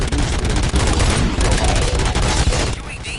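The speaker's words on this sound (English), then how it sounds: "Gunshots? What's going on?" Dense gunfire crackles in the video game RoboCop: Rogue City, with rapid overlapping shots and booms filling the whole stretch, loud and close, with faint game sounds mixed in.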